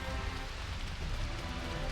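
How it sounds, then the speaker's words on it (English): Steady rain pouring down in Final Fantasy XIV, a dense, even hiss of drops on surfaces with no talk, continuous throughout. "Rain! Look, you guys get weather."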